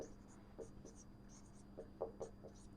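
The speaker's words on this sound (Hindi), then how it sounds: "चलो मैं यहाँ डेटा लिख देता हूँ, मार्क प्राइस," Pen scratching out figures by hand during a percentage practice session, a few short bursts of writing strokes, close and quiet, with brief pauses between them.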